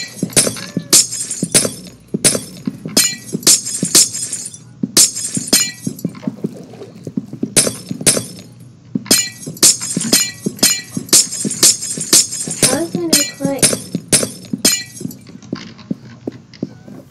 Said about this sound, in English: That means I need to break ice.